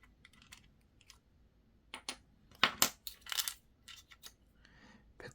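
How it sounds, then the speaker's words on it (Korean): A coin scrapes and clicks against the metal battery chamber cover of a Rollei 35 camera, a cluster of faint, close ticks and gritty scratches in a quiet room. "동전으로 이렇게 열어주시면 되고요"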